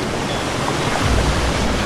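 A waterfall with a strong rushing current roars as dense, steady broadband noise, loud and close without a break and with no voices.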